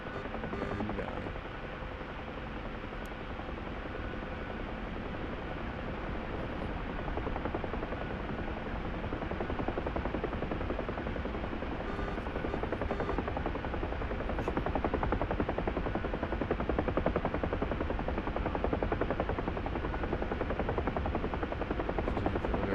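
A Huey helicopter in a flight simulator game drones continuously with a steady, dense rotor thump and engine whine, holding an even level for the whole stretch with no talk.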